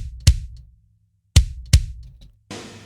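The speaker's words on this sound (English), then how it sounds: "So the kick sounds like this." Kick drum from Superior Drummer 3, shaped with EQ and CLA plugins for extra top and less low-mid, thumps three times with a punchy low body, each hit standing alone and close, followed by a brief burst of noise at the end.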